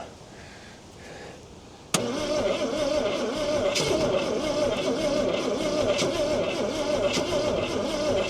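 The starter cranks a 1968 Ford Falcon engine, parked since 1990 and not yet firing, kicking in abruptly with a loud, continuous churning drone and rhythmic pulses that carry on to the end.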